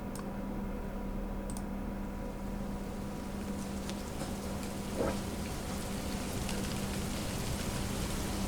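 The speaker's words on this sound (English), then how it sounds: "Not too heavy, just a steady downpour." Steady, moderate downpour of rain in a dungeon crawler video game, a continuous soft hiss with scattered light ticks and drips, unbroken and even throughout.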